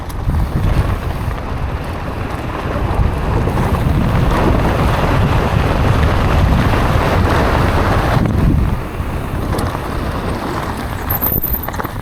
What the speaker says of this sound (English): this is the windiest run so far